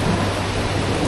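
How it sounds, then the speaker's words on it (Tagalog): Heavy rain and rumbling thunder from a storm out at sea during a dory fishing trip, a dense, steady roar filling the short stretch without any talk. "Ayan na nga yung kidlat."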